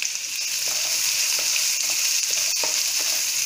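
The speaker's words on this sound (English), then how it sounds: "You are going to saute them until it turns light brown in color." Crushed garlic and chopped onions sauté for a yellow pumpkin curry, making a loud, steady, close sizzle with a few faint stirring taps underneath and no talking.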